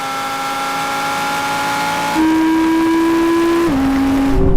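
A Lamborghini accelerating hard during a race against an Audi, a loud close engine drone that rises in pitch, steps up sharply partway through and shifts again near the end, with no talking.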